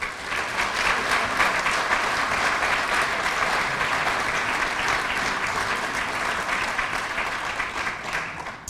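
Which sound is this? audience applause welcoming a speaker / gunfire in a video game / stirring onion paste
audience applause welcoming a speaker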